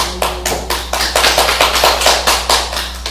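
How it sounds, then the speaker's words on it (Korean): Church congregation applauding, a dense run of loud, even hand claps sustained for a few seconds, close and steady with no talk over it. "하나님께 영광의 박수를 드립니다"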